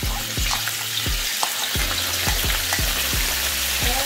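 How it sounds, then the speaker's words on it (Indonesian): Small anchovies fry in hot oil in a pan, a dense steady sizzle broken by repeated stirring clinks and scrapes, close and fairly loud, with no speech. "mula-mula kita akan goreng dulu ikan teri dikit-dikit"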